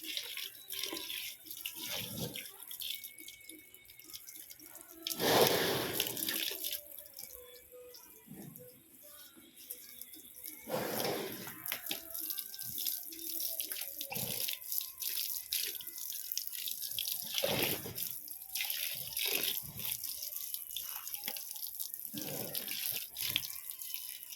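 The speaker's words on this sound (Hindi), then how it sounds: "खोल के छोड़ के चले गई, नाद के ऊपर पानी हो गया ओवर।" Water runs steadily from an open tap and spills over the rim of a village cattle trough. It makes a continuous splashing rush throughout, with several louder surging bursts.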